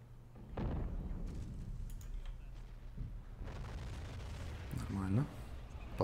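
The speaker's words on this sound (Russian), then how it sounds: "Пару выстрелов таких." Artillery and gunfire boom at a distance in the WWII strategy game Men of War: Assault Squad 2. A few muffled, faint blasts sit over a low rumbling battlefield bed while a player talks.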